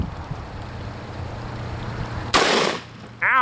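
A single loud shotgun blast cracks out during a dove and hog hunt by the water, standing clearly above quiet outdoor background, followed soon after by a short, high-pitched voice.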